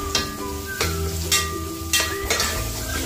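Garlic and onion sautéing in a pan for pancit malabon, a loud continuous sizzle broken by several sharp scraping strokes of a spatula stirring the pan at a roughly even pace.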